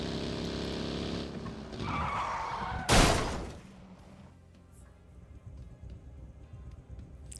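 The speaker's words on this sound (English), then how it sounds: "I think I smashed myself against that broken up car." A vehicle in PUBG skids and slams into a wrecked car: rising tire screech and engine noise build to a single loud, sharp crash, then fade to a low rumble and scattered clatter.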